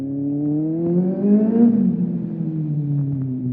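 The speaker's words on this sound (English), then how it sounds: "it makes your bike sound like an F1 car" A Kawasaki Z800 motorcycle engine revs inside a tunnel, its droning pitch climbing smoothly to a peak and then easing back down, loud and close with a faint reverberant hum.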